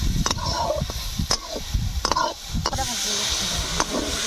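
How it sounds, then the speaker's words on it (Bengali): Masala with fried potatoes is stirred and fried for a shrimp biryani, giving a steady sizzle broken by sharp spatula scrapes and clanks against the pan, with a voice talking quietly underneath. "কষিয়ে দিলাম"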